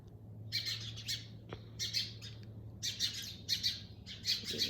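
Birds wandering over a garden lawn give repeated bursts of bright chirps and squawks, a few close calls in clusters, with a low steady hum beneath and no talk.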